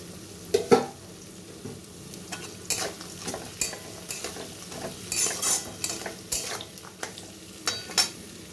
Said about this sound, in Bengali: এইভাবে কাজু কিশমিশ আর ফুলকপির ভাজাটা দিয়ে দিচ্ছি